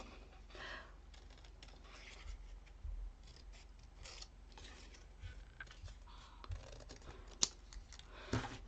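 Scissors cut craft paper in a quiet craft room, giving faint, close snips and rustles at an uneven pace, with no talking.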